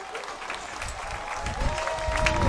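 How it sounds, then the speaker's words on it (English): Festival crowd on Maui gives a round of applause, moderate clapping that swells toward the end with a voice speaking over it. "Nice round of applause."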